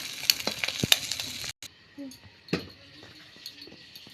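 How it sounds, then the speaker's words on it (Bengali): Fish roe fries in mustard oil in a kitchen karahi, with crackling sizzle and sharp spatter pops, busier at first then softer after a brief gap, heard close by. "এখানে মাছের ডিম কটা ভেজে নিচ্ছি আমি"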